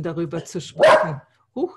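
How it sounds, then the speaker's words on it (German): A pet dog gives one loud bark in the middle of a person speaking German indoors. It is close by and briefly drowns out the voice, and the talking resumes right after. "das ist mein Hund, der spricht laut"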